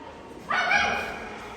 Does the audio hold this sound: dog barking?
yes